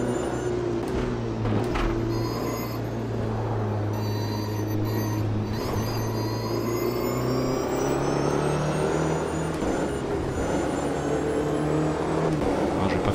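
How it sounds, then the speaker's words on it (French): A steady high electric motor whine with rising and falling pitch tones, over a continuous engine drone, as a Porsche race car speeds along in the game Automobilista 2. "On entend le moteur électrique."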